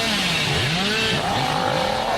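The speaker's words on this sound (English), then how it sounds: "actually was able to miss that chainsaw there" A chainsaw revs continuously in a Dead by Daylight-style horror video game, its engine pitch sweeping up and down in loud, close bursts with no talk over it.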